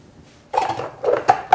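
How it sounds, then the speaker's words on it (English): Spoon stirring thick sweetened condensed milk in a large bowl, a few soft clinks and scrapes against the bowl in quick succession, close and brief. "I'm going to just kind of stir that a little bit"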